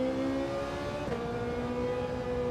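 A race car engine in a racing video game, a steady loud drone that holds one pitch with a slight shift midway, without any talk.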